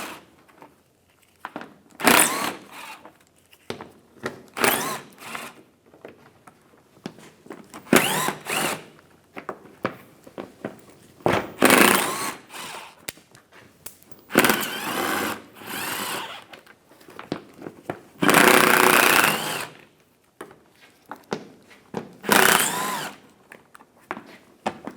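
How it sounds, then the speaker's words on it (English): Power tool with a 7mm socket backing out screws from the valance panel of a 2010-2014 Cadillac SRX, heard as repeated short whirring bursts separated by pauses, close and fairly loud. "we're going to take out these screws. We're going to use a 7mm socket."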